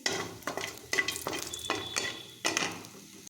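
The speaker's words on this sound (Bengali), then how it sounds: "তেল গরম হয়ে গেছে, বড়িটা আমি ভেজে নেব" Bori lentil dumplings dropped into hot oil, crackling and spitting close up as pieces go in, with a few sharp clinks of a utensil against the pan over steady frying noise.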